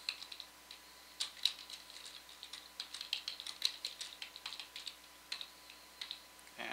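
Typing on a computer keyboard with presses of the tab key, a quiet, close series of irregular light clicks and taps in uneven bursts, with no talking.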